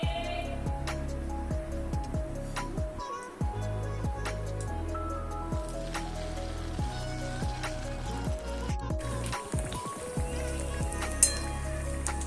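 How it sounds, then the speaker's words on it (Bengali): Malpua batter ladled into hot oil for a Rath Yatra sweet sizzles and crackles continuously, with sharp spattering pops and scrapes of a utensil throughout, close and fairly loud, without speech. "এবার আমি তেলটা গরম হলে 1 হাতা করে দেব আর দিয়ে ভাজবো"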